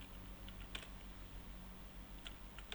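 Code being typed on a computer keyboard, with soft, sparse keystroke clicks in irregular small groups over a faint steady room hum and no speech.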